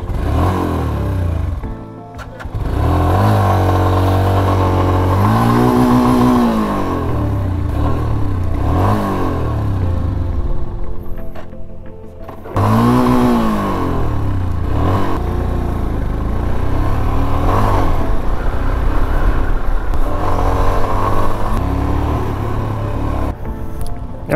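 A car revs its engine hard over and over, trying to drive out of a spot where it is stuck on a road in Jammu and Kashmir. The rising and falling pitch sweeps are loud and close, with a short drop near the middle.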